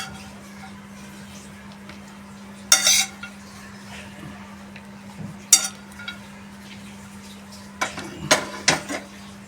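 Cooked batata poha being served onto a plate, a few sharp clinks and scrapes of a utensil against a pan or dish over a steady low hum, spaced out and without talk.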